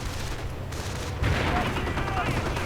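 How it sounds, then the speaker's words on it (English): Mortar fire in a real-time strategy battle game, heard as a dense rumble of distant explosions that jumps louder partway through. "Taking mortar fire."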